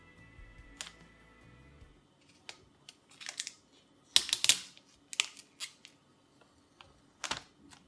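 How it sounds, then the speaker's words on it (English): Plastic wrap is pulled and torn off an iPhone 12 Pro box in a quiet room, giving scattered sharp crinkles and crackles in short bursts, close and fairly soft. "So let's turn the box around and take the plastic off."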